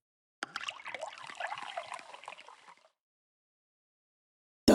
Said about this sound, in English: Add boiling water and wait 3 minutes.